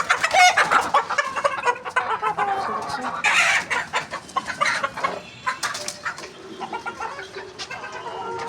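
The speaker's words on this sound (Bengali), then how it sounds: "এই তুমি আসো, কি সুন্দর মুরগি।" Chickens cluck and squawk up close in a rural yard, busy overlapping calls with a few sharp cries, while people talk nearby.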